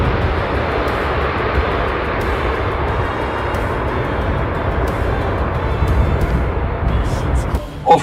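Aircraft engines roar steadily at takeoff, a dense broadband rumble that holds loud and even for about seven seconds before easing, with a brief voice near the end.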